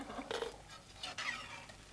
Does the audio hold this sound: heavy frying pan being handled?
yes